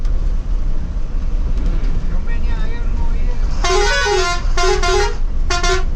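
A vehicle horn honks several times in quick bursts over the steady rumble of road traffic on a rough road to Pavagadh, Gujarat.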